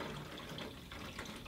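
Distilled coolant water draining out of a PC water-cooling loop, a steady close liquid pour and trickle running without pause, with no talking.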